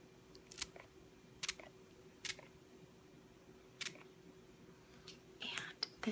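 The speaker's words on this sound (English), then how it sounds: "I'll spray this for you guys." A sea salt hair spray bottle is pumped in several short, separate spritzes, each a brief crisp hiss, close and quiet against a hushed background.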